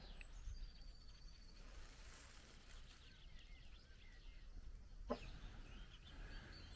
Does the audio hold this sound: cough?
no